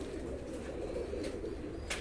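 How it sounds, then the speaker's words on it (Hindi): Rare UAE pigeons cooing softly, a low murmuring coo over a faint background hum with a few light rustles, quiet and continuous. "आज यूएई के नायाब कबूतर दिखा रहे हैं"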